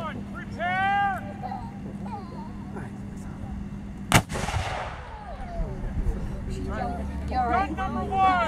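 Civil War artillery cannon firing at a living-history demonstration, a single sharp loud blast midway with a rolling echo trailing off, surrounded by crowd chatter and voices before and after.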